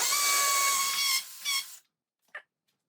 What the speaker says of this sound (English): Put the drill on the hammer mode.